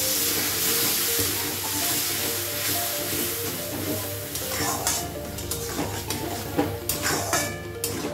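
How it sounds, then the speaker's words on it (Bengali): Water added to fried spice masala in a hot pan, with a loud continuous sizzle and hiss, stirring and clinks of utensils, and occasional talking. "মশলাটা আমার কষানো হয়ে গেছে, এবার একটু জল দিয়ে দেবো।"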